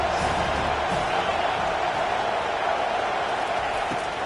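A football stadium crowd roars steadily behind the defense on a third down, a dense, sustained wall of cheering and noise heard from within the stands.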